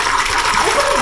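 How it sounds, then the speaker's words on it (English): Liquid gushes steadily from a box of wine being poured out, a brief continuous splashing stream close by. "Wine is still going. It's box wine, son. It never ends."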